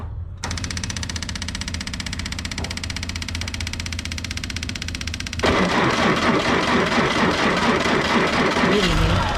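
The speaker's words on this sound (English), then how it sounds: "let's see how bad she don't want to start with all the diesel fuel sitting everywhere else." A diesel M718A1 engine cranks steadily for about five seconds, then catches and runs on at a louder, rougher idle, close by.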